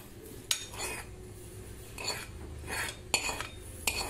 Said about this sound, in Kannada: ಇದನ್ನೆಲ್ಲ ಇವಾಗ ರುಬ್ಕೊಳ್ಳೋಕ್ಕೆ ಜಾರ್ಗೆ ಹಾಕ್ತೀನಿ